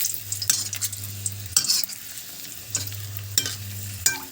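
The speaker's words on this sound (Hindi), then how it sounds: "तो चलिए इसको हम अच्छे से फ्राई करेंगे" Chillies frying in a pan, with bright sizzling and crackling spurts and a few sharp spatula scrapes at irregular intervals over a low hum.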